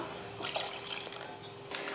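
Drained water poured into mashed tomato kadayal in a home kitchen, a soft liquid trickle and splash running steadily throughout, close and fairly quiet.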